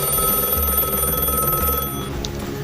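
A telephone rings in a Bengali horror story about a late-night train and a railway station, a steady electronic ring with a faint higher tone near the end, heard alone without any talk.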